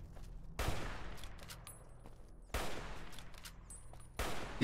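Gunfire in the Fallout: New California video game, three loud bursts of rapid shots a couple of seconds apart, each trailing off into a ringing decay.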